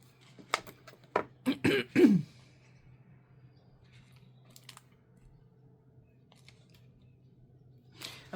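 Scissors with a loosening screw snip paper for a no-sew journal, a handful of close, sharp cuts clustered early on, followed by quiet rustling and faint handling sounds.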